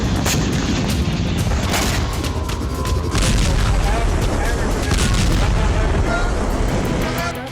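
Rocket explosions in Israel rumble as a continuous heavy booming roar with scattered sharp cracks, loud throughout, while a news voice talks over it.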